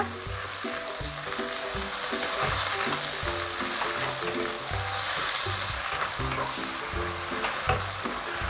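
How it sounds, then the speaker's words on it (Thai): Mixed mushrooms stir-fried in a hot pan with a splash of stock, loud steady sizzling with rhythmic scraping and tossing strokes of a utensil, close up and alone without talk. "เราจะผัดไปผัดมานะคะ ผัดจนเห็ดสุกนะคะ ใส่น้ำสต๊อกลงไปหล่อเล็กน้อยค่ะ แล้วก็ยังคงผัดวนไปนะคะ"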